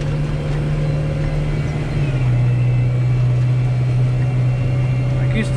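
A farm tractor's engine drones steadily under load, a loud continuous low hum whose pitch drops slightly partway through, while hauling potatoes from a harvester to a storage barn; someone talks over it.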